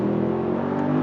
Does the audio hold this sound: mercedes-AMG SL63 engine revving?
yes